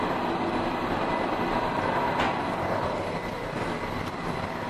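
A funicular-style inclined elevator at Huntington Metro Station rumbles steadily as it travels and pulls in, with a continuous mechanical hum and a couple of faint clicks, no voices.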